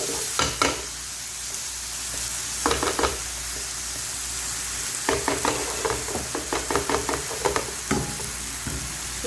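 Karela with onion, potato and tomato fries in a pan in dhaba style, with a steady sizzle under clusters of sharp spoon scrapes as it is stirred. It is close and alone, with no talking.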